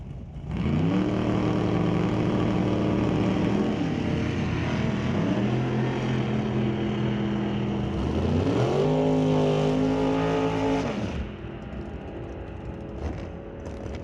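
Two drag-racing Camaros, a 1968 car and a Z28, race at a drag strip: loud engines roar through rising gear pulls with a shift midway, then fade as they finish the run.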